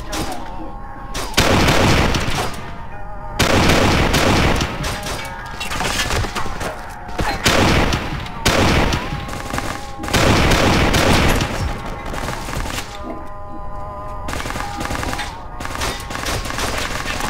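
Repeated gunfire from the video game Kane & Lynch 2 fills a multiplayer match, with loud bursts of shots and booms in clusters and almost no pauses.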